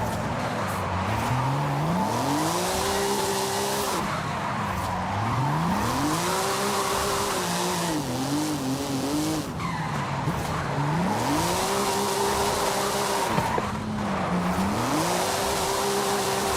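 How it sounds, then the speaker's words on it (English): A car drifts in Forza Horizon 5 with its engine revving hard and rising in repeated sweeps. Sustained tire squeal runs underneath throughout, loud and close, with no voices. "It's a decent drift."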